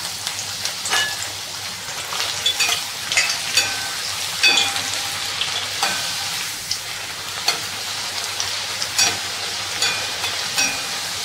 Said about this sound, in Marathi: त्याच्यामध्ये आपण पुऱ्या तळून घेऊया।